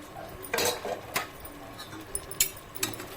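Onion paste stirred into a cooking pan with fried onions and green chilies for chicken biryani, with a spoon clinking and scraping against the pan in a few scattered, fairly quiet strokes.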